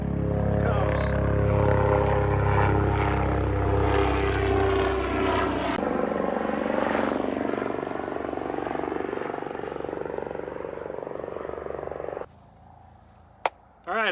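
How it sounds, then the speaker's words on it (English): A medical helicopter passes overhead at a shelter, a loud, dense rotor roar that dominates at first and slowly fades, then drops away abruptly near the end, with faint voices beneath. "That helicopter was actually a medical helicopter."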